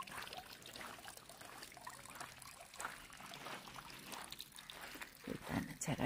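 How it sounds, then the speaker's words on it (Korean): Water trickling and dribbling steadily at a low level, a soft outdoor babble with small splashes and gurgles. "물소리도 정겹죠"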